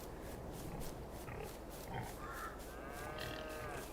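Pigs grunt and shuffle inside a shed in the video game Farming Simulator 22, a steady low murmur of animal sounds with no talk over it.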